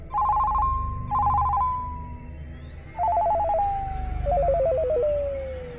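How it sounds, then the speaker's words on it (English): A cell phone rings with a warbling electronic tone in repeated bursts, four rings over a few seconds, each burst trailing off, loud and close over a low background rumble. "I then abruptly got a call on my cell phone."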